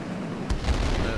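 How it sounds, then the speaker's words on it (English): Aircraft cannons fire from a J7W2 fighter in the World of Warplanes video game: a short, punchy burst of booming shots over a steady background drone. "Cannons hitting hard"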